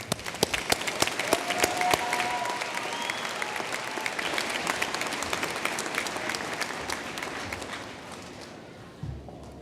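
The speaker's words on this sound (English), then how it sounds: "Please join me in applauding the graduates from the College of Applied Science and Technology." A large audience applauds graduates from the College of Applied Science and Technology at a fall university commencement, with dense sustained clapping that builds early, then slowly thins and fades toward the end.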